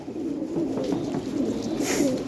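Several flying pigeons coo in a steady low murmur, close and continuous, with overlapping throaty calls filling the space and no talking.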